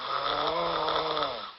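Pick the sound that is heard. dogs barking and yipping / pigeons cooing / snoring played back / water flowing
snoring played back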